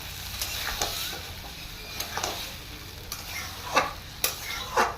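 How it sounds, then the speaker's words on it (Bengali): Boiled potatoes and peas go into a pan of ghugni, giving a soft, steady sizzle under a few sharp scrapes and clacks of a spoon stirring against the pan, close by. "এবার আমি দিয়ে দিব বয়েল করে রাখা আলু এবং মটরগুলো।"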